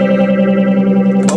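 A Mu-Tron Bi-Phase phaser with only phaser B engaged sweeps over a sustained, distorted electric tone, giving a steady swirling wobble, loud and close, before a sharp burst at the end.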